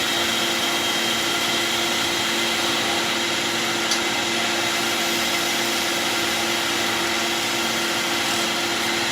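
A wood lathe spins a pen blank while a skew chisel scrapes it, giving a steady loud whirring drone with a constant motor hum throughout and no speech.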